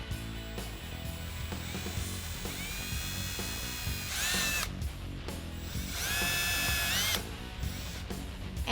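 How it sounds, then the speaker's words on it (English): A power drill with a 1/4 inch bit bores mounting holes in a 2018-2019 Mustang Roush rear diffuser, whining in several sustained bursts that rise in pitch under load, close up and without talk. "I have a 1/4 inch drill bit here, and what we're going to do is we're going to drill holes right here so we can mount our hardware."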